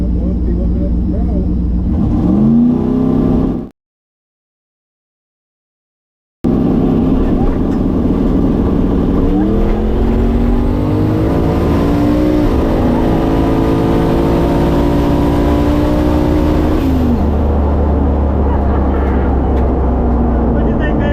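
Turbocharged LS-powered drag car racing a Nissan GTR, loud engine roar building and rising in pitch through long acceleration pulls, with a brief cut to silence early on and voices talking over the noise.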